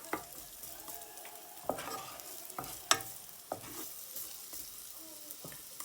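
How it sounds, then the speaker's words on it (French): Chorizo rice browning in a pan, with a steady soft sizzle and faint scraping stirs at regular intervals, close and fairly quiet. "Donc vous laissez ça rissoler un tout petit peu."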